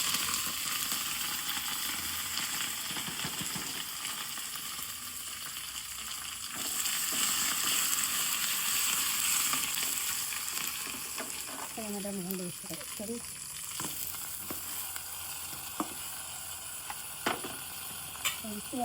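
Dried red chilies and curry leaves crackle and sizzle in hot oil for a mango pulissery tempering, a steady close frying hiss with sharp popping spurts near the end.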